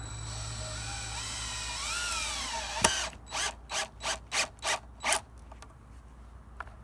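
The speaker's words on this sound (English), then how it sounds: "Load up your screw, put downward pressure on the drill." A power drill whirs steadily, then a sharp click is followed by a string of rhythmic ratcheting pulses as a screw is driven into wood, close up.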